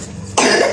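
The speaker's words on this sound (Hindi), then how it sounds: "देखो खांसी हो रही है," A child gives a single short, harsh cough that bursts out suddenly after a moment of quiet room tone.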